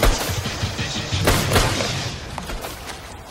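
A few sharp gunshots crack out at a distance from a boat, sudden bursts standing out against a steady rushing background, with no talking.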